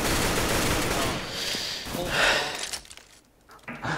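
Burst of rapid gunfire from a CS:GO match fills the first few seconds, loud and dense, then thins out into scattered quieter shots and faint voices toward the end.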